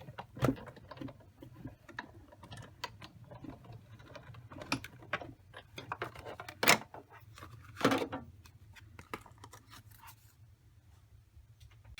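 A Big Shot die-cutting machine cranks cardstock in an embossing folder between cutting plates, giving a quiet run of close ticking and clicking with a few louder thumps and rustles, and no talking.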